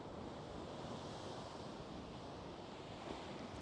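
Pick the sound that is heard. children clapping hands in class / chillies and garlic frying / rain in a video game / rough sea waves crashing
rough sea waves crashing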